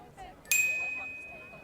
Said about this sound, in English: That noise? Oh, no, it wasn't the book. My phone must be under it.